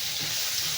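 Onions frying in a pan give off a steady, close hiss and sizzle without pause, with no voices over it.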